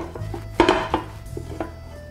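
Pan and plate clatter as a Spanish tortilla is flipped from the pan onto the plate: a few close metallic and ceramic knocks and clanks, the loudest in the middle, over a quiet kitchen hum.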